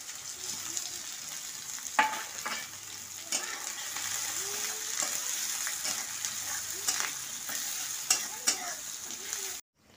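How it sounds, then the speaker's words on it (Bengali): Onions and green chillies frying in a pan for chow mein, stirred with a spatula that scrapes and taps now and then over a continuous close sizzle. "তো আমার লঙ্কা আর পেঁয়াজ আমার লাল লাল করে ভাজা হয়ে গেছে।"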